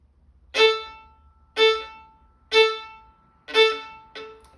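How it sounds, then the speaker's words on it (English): Five short, detached musical notes played one after another at a steady pace, each clipped off quickly with silence between, the last slightly shorter. "So as you heard, the note was very fast and short."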